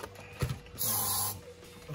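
A short hiss of an aerosol spray lasting about half a second, preceded by a faint click, fairly quiet overall.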